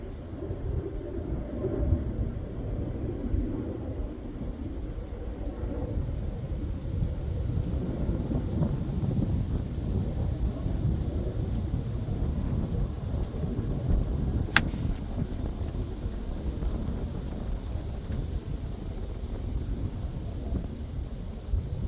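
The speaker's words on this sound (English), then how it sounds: "it's windy today and it's chilly" Steady low wind rumble buffets the microphone throughout, a constant roaring noise with no speech.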